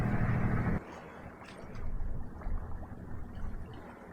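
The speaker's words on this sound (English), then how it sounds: "Yeah, you can hear our engine in the background." A sailboat's engine runs at sea as a steady low rumble, partly covered by gusty wind buffeting the microphone, with no talk.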